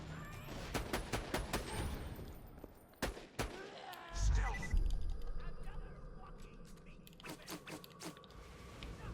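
Torque rifle gunfire in Borderlands 2: irregular bursts of sharp game shots and explosive impacts, with a player talking over the action throughout.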